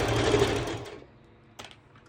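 A sewing machine runs a fast burst of stitching as an elastic band is sewn onto a skirt with built-in shorts, then stops, followed by a brief second short whir.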